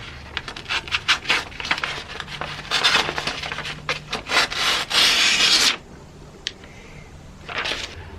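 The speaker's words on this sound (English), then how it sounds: "now I'm going to finish the edge with the strop I made." A chisel edge is rubbed back and forth on a homemade strop after whetstone sharpening, making close, rhythmic scraping strokes that build to a longer dense rub, then a brief pause and a final few strokes.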